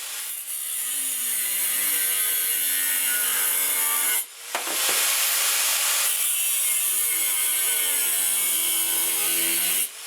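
A power cutter shrieks through steel flat bar, cutting small tabs for a racing mower's chain guard. The loud, continuous high whine runs nearly throughout, broken by one brief pause partway through.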